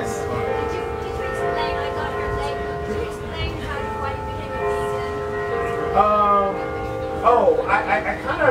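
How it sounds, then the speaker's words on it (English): A bell rings at a book talk, its steady sustained tones layered like a chime and persisting throughout, with a brighter struck tone near the end while people talk nearby. "so this bell rings"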